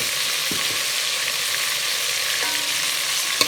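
Steady sizzling of spices and black pepper frying in hot ghee for white chicken korma, with a couple of faint clicks of a spoon against the pan.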